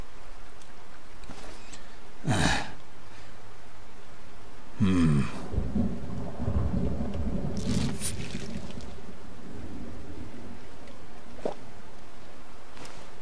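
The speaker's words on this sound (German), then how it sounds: "Ein Sturm." Stormy weather with rain in the video game Fallout 4: steady rain hiss with a few sharp crackling bursts and a low rumbling swell of thunder in the middle, then settling back to a softer wash.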